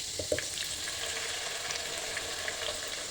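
A pepper mixture for unripe plantain and beans porridge fries in a pot with a steady, even sizzle and faint crackles. It stays fairly soft and continuous throughout, with no talking over it.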